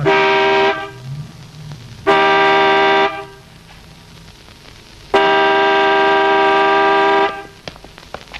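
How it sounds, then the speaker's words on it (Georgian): A car horn blares in three long, loud honks separated by short pauses, the middle one shortest and the last held longest. "რა საყვირებ მანქანას?"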